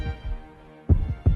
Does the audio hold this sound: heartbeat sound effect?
yes